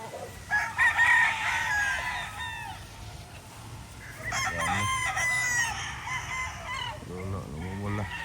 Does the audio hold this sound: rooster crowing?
yes